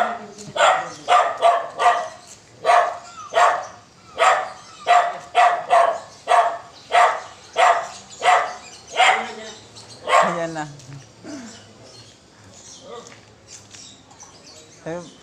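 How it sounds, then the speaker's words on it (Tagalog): Dog barking close by at homes during a house-to-house relief food handout, about twenty sharp barks in a steady, rhythmic run before tapering off, with faint voices near the end. "May aso kasi."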